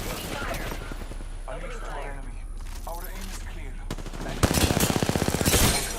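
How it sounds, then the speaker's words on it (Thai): Rapid bursts of automatic gunfire in Apex Legends crackle loudly over background voices and game noise, with a dense volley in the final seconds. "ได้เสียงยิงทางซ้าย"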